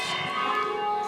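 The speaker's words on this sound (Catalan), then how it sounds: "Carai, les campanes." Church bells ring out loudly and steadily, their sustained tolling filling the air, with a sharp louder strike right at the end.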